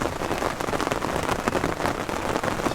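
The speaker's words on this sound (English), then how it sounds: "So the rain started." Heavy rain pours down during an electrical storm at a carp fishing spot in Europe, a dense, steady hiss of drops drumming on surfaces, close and loud, with no voices.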